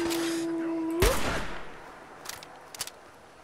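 A single loud sniper rifle shot in the video game Fallout 4, a sharp crack with a decaying tail, followed by a couple of fainter distant reports.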